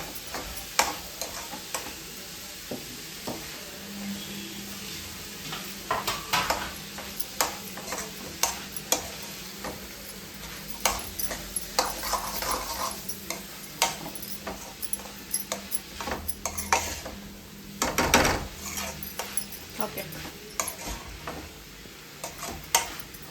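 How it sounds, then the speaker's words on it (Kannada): A spoon stirs and mixes cooked beans in a pan while a dosa meal is prepared, giving close, repeated scrapes and metallic clinks in an uneven rhythm with faint sizzling behind. "ಹಾಕೊಂಡು ಈ ರೀತಿ ಚೆನ್ನಾಗಿ ಮಿಕ್ಸ್ ಮಾಡ್ಕೊಳ್ಳಿ"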